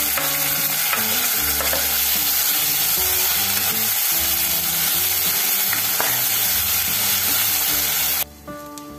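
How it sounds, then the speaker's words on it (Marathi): Tomatoes and onion sizzle and fry in a pan for an oyster curry, a steady crackling hiss with occasional stirring scrapes, up close, until the sizzle suddenly quiets near the end. "टॅमॅटो घालून चांगला शिजवून घेऊया."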